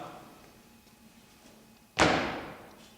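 One heavy thump of someone jumping on a floor in a stage play, a sharp loud impact that rings out and fades over a second, after a quiet stretch.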